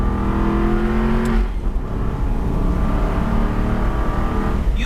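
An Aston Martin V8 Vantage sports car engine revs and accelerates close by, a deep throbbing V8 note that rises, dips briefly, then pulls up again, loud and with no talk over it.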